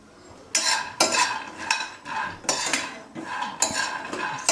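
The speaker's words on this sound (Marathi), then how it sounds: "ब्राऊन होईपर्यंत आपण हे शेंगदाणे असे भाजून घेऊया" Peanuts dry-roasting in a pan over a low flame are stirred with a metal spoon, making repeated scraping and rattling strokes in an irregular rhythm, close and fairly quiet.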